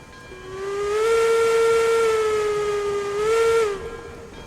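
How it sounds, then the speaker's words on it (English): A deep steam locomotive whistle from the RailRoads Online train game sounds one long sustained blast of about three seconds, clear and loud, with a brief swell near the end before it cuts off. "A little deeper whistle than on Betsy there. Sounding good."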